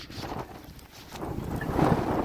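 Strong wind and heavy rain lash a Mumbai street in a storm, a dense, rushing roar that swells gradually louder toward the end, steady and unbroken with no voices.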